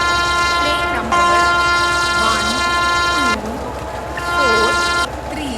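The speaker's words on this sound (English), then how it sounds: "Rajdhani Superfast Express is arriving at platform number 2." Rajdhani Superfast Express arriving at a platform in an Indian train video game: a sustained multi-tone train horn blares in long blasts over rumbling rail noise, with sliding tones between the blasts.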